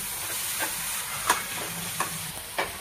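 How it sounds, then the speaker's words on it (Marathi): Capsicum roasts on a tawa with onion, giving a constant sizzle broken by several spatula scrapes and taps at irregular intervals. "आता शिमला मिरची पण एक 5 मिनिटं भाजून घेऊया।"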